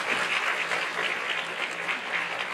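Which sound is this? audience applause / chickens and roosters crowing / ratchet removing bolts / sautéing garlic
audience applause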